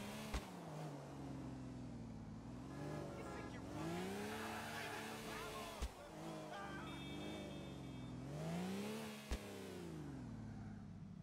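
A car in the open-world game GTA 4 revving and accelerating, its engine tone rising and falling in long sweeps, with a few sharp knocks along the way and quiet voices underneath.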